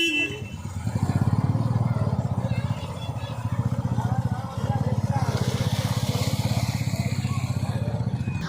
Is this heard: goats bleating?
no